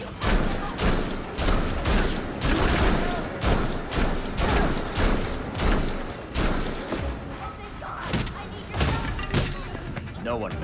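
Rapid bursts of video game gunfire from Gotham Knights, loud and close, repeated in clusters of sharp thuds and booms throughout, with a player's voice talking over the action.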